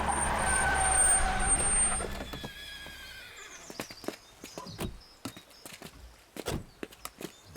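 Several horses clip-clop in sharp, uneven hoof strikes that start after a fading engine-like rumble, the hooves close and crisp against a quiet background.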